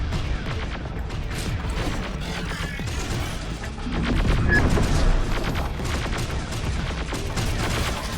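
Gunfire in Terminator: Dark Fate - Defiance, dense rapid shots and mechanical clatter forming a continuous loud barrage that swells briefly in the middle, with no talk.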